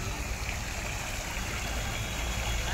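Artificial waterfall at Mapro Garden in Lonavala, heard as a steady broadband rush of falling water, constant and fairly close with no pauses.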